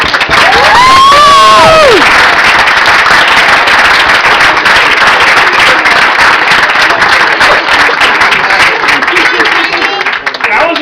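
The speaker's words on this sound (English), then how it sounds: "give yourselves a wonderful round of applause" Wedding reception guests clap and cheer loudly at a best man speech, a sustained roar of applause with whoops and a whistle rising early on, carrying on for over ten seconds.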